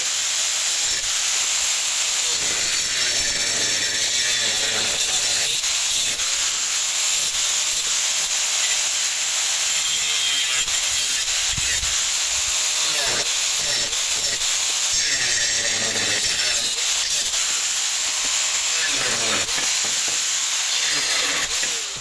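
An angle grinder cuts a 0.5 mm deep groove into steel profile pipe, a loud, continuous harsh hiss and grind that holds steady for over twenty seconds with small surges and no talk.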